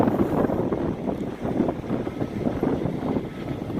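Steady outdoor wind blowing hard, a broad continuous rush with gusty swells and rumbling buffeting against the microphone, no voices.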